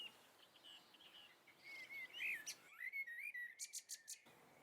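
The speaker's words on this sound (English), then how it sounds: "go and record the dawn chorus" A dawn chorus of several birds chirping and whistling together, bright overlapping calls and trills rising over a quiet background, with one voice briefly louder and nearer.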